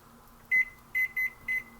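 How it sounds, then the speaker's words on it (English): A kitchen timer being set for five minutes while noodles boil gives four short, sharp electronic beeps in quick succession, close and clear over a quiet hum. "I'm going to go ahead and set the timer for 5 minutes."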